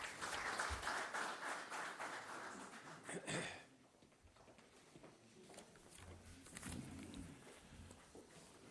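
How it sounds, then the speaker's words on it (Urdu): Loud crowd applause at a government ceremony for flood victims' housing in Dera Ismail Khan, Pakistan, dense clapping that swells, then gradually thins to a softer patter of scattered claps. "بھرپور تالیاں۔"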